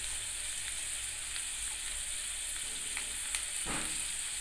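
Elephant-foot yam and potato chunks fry steadily in a pan with spices on a low flame, a constant soft sizzle broken by a few faint clicks and one brief stir.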